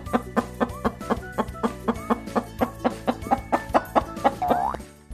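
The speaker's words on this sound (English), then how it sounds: "Chicken says cluck," A chicken clucks in a quick, steady series of about sixteen short clucks, close and clear, ending in a drawn-out squawk.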